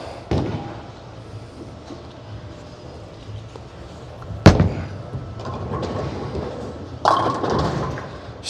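A bowling ball rolls down a lane with a low rumble, then strikes the pins with a sharp loud crash, and another clattering impact follows a few seconds later amid alley ambience.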